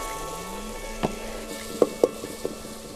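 Masala with turmeric, red chili, crushed chili and salt fries in a pan for sarson ka saag, a low, steady sizzle broken by a few sharp taps of a spatula against the pan.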